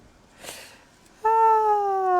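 A cat gives a single clear, loud meow up close, a sustained tonal cry that slides gently downward, preceded by a faint soft rustle in a quiet room.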